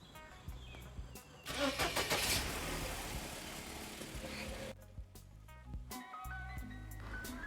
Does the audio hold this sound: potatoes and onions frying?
no